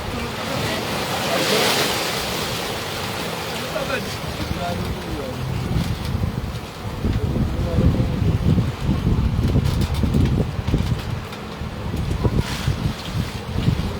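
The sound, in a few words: big ocean waves crashing on shore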